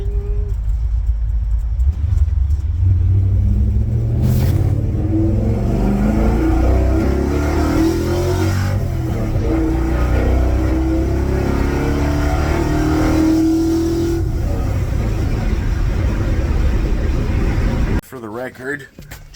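A Ford F100 pickup truck with a DOHC engine out on a test drive, its engine rumbling and pulling steadily close by for most of the stretch before cutting away near the end.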